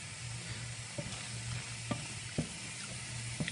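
Red pepper and onion sauté in a pan with a steady close sizzle, broken by a few sharp clicks and scrapes from stirring, with no voices.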